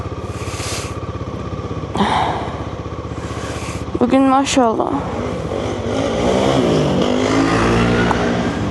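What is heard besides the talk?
road traffic with motorcycles and cars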